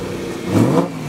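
A car engine revs through a performance exhaust system: a short, close throaty blip that swells and then settles back to a steady rumble within about a second.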